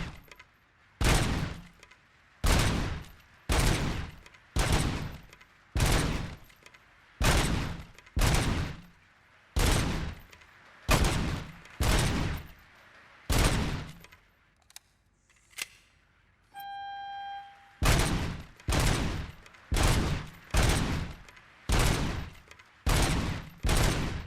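Heavy gunshots fire in RoboCop: Rogue City in a slow, evenly spaced rhythm, roughly one per second, loud and close. A short pause with a faint electronic tone comes in the middle before the shooting resumes at the same pace.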